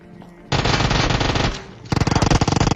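Automatic gunfire in PUBG as a knocked enemy is finished off inside a house in Pochinki, two loud, close bursts separated by a short pause, the second more clearly pulsed.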